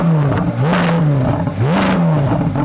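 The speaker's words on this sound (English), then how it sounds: "so when you rev it, it doesn't go very high." A Chevrolet Corvette Z06 with a naturally aspirated V8 and sports exhaust revs loudly and close by, climbing twice to its soft limiter and bouncing there before dropping back, each rise sharp and repeated.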